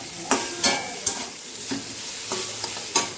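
Mustard and ginger paste, ground in a mixer, stirred in a hot pan with Kashmiri chilli powder, a close soft sizzle broken by several sharp spoon scrapes and knocks at irregular intervals.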